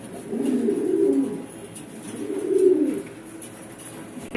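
Lahore pigeons coo softly in a loft, two drawn-out rolling coos about a second and a half apart, fairly faint against a quiet background.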